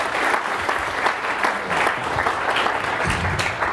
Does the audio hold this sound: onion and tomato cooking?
no